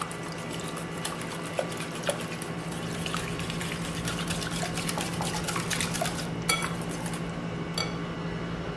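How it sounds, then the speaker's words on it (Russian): Yogurt being stirred into potato soup in a pot for Turkish potato soup, heard as steady wet scraping and soft spoon clinks against the pot, close and continuous with no talk. "Mix all together."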